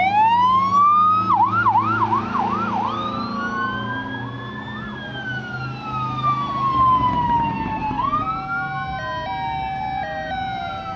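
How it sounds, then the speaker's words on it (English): Emergency vehicles in an annual parade heading north on Woodward blare wailing and yelping sirens, several overlapping and loud, with the pitch sweeping up and down continuously and traffic rumble underneath. "made its way north on Woodward with lights flashing and sirens blaring."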